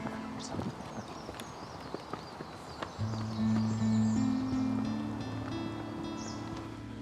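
Horses gallop in a dramatic scene, their hooves clip-clopping in quick, irregular beats that grow louder and denser, with sustained music tones underneath.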